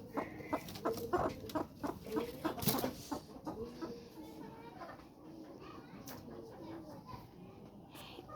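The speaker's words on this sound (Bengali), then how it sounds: "ওই যে এই জায়গায় একটা মুরগি আছে, এটাও সেই একই মুরগি" A hen beside a darkened nest of about twelve eggs clucks in a run of short, close, rhythmic calls, then quiets to fainter sounds while a person talks nearby.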